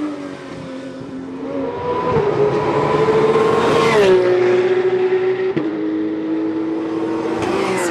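A Porsche race car at the Paul Ricard circuit approaches a chicane under pressure from a rival, its engine note rising loudly, dropping sharply on a downshift, then droning on nearby.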